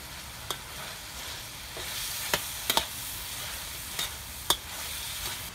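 Meat sizzling in a hot pan with stock, shrimp and vegetables for mee goreng mamak, Indian-style spicy fried noodles, giving a steady close frying hiss broken by a few sharp spatter pops and stirring clinks.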